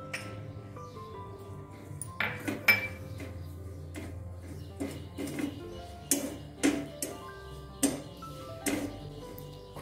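A spatula clinks and taps repeatedly against a kadhai as one bowl of dry grated coconut is roasted for pudachi vadi, with irregular metallic strikes over a quiet background.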